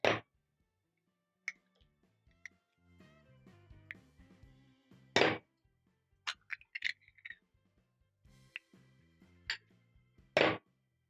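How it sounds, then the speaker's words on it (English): Eggs are cracked into a bowl of peanut-coating mix, heard as a few sharp, close taps and cracks spread among quiet clinks and small kitchen noises. "I'm going to be cracking in around 3 to 4 eggs."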